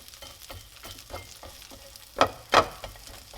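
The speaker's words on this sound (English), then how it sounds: "Just swirl that butter around. And we just add the pizza in" Leftover pizza fries in melted butter in a pan, giving a soft continuous sizzle broken by a couple of louder bursts of spatter or scraping near the end, close up, with no talking.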